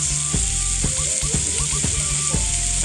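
Australian Grade 7 Wagyu ribeye steak sizzles steadily in a hot pan, a loud continuous fry with a few soft stirring clinks and scrapes.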